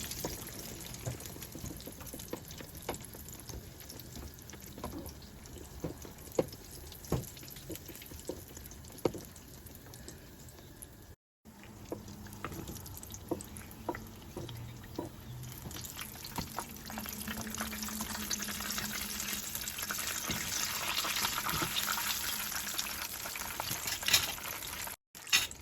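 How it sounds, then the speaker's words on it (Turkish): Batches of dough frying in the same hot oil, puffing up as they cook; a continuous crackling sizzle with small pops that grows fuller and louder in the second half, with no talking. "aynı yağda kızartmaya devam edelim hamurlarımızı"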